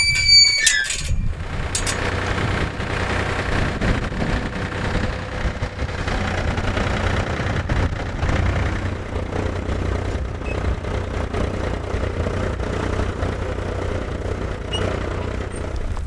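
A farm tractor engine idles steadily with a low, continuous rumble throughout, close and fairly loud, after a brief burst of other noise at the start.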